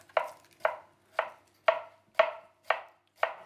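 A knife chops an onion finely on a board in seven evenly spaced, crisp, close strokes, each a sharp thud with a short tail, with quiet between them and no talking.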